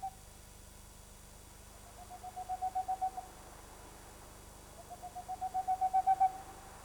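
Tengmalm's owl hooting in a pine forest: two rapid series of soft, even hoots, each rising in loudness over about a second, in a quiet night setting.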